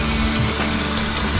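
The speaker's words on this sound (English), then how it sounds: "So what I'm going to do with this shoe is soak it in cold water." Steady running cold water pours from a tap onto an Air Jordan 1 sneaker being soaked, loud and close, a constant rushing wash with no voices.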